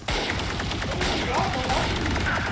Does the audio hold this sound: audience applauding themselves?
no